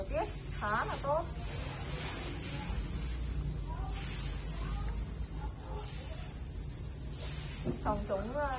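Thai crickets on a home cricket farm chirp in a dense, continuous high-pitched drone, loud and steady throughout, with a few faint squeaky calls rising above it.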